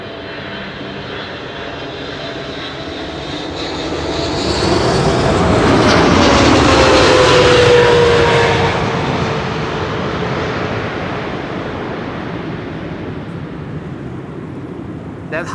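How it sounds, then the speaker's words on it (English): An Emirates SkyCargo Boeing 777 freighter passes on arrival at Amsterdam Schiphol. Its loud engine howl swells to a peak with a rising whine, then fades away over about fifteen seconds, and a voice speaks over it. "That howling sound you'll only hear with the freighters and the 300s."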